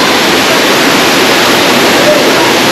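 Waterfall in the Svir gorge near Lazarevskoye, Sochi, a loud, steady, close-up roar of falling water that fills the whole stretch without a break.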